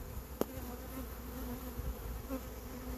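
Carniolan honey bees in a busy hive, a dense steady droning buzz close by with a faint tap early on, continuous and moderately quiet, with no talking.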